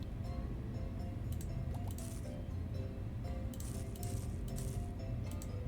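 Watering crops in a farming roguelike video game: squishy, dripping splashes of water repeat in short bursts over a steady, dense background hum.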